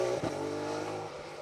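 A V6-engined Golf rally car from the Welsh Rally Championship drones at steady high revs, fairly faint and distant, with a brief gear-change blip early on.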